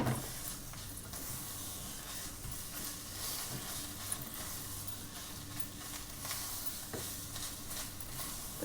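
Baby soup ingredients being stirred in a pot, a steady close scraping and swishing with a constant hiss underneath and faint sizzling throughout.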